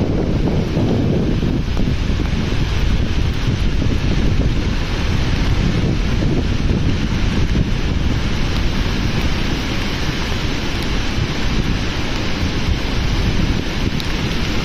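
Khumbe waterfall in Maharashtra, in the rainy season, roars as a dense, continuous broadband rush, loud and unbroken, mixed with heavy wind buffeting on the microphone; no talking.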